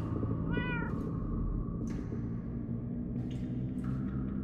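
Cats in Minecraft: Story Mode meow several times in a row: one rising, wavering cry and then shorter mews spaced over a few seconds, heard alone over a low, steady background.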